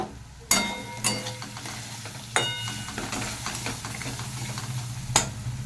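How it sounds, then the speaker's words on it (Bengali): Tomato with salt, chilli powder and turmeric powder stir-fried in a pan, a close, low sizzle punctuated by sharp scraping and knocking strokes of a spatula every second or so, with no speech. "মশলাটাকে খুব ভালো করে কষিয়ে নিতে হবে।"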